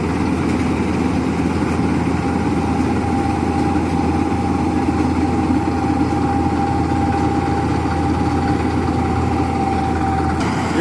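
A combine harvester cuts paddy and throws straw out the back, its heavy engine running in a loud, steady drone with a constant mechanical hum throughout.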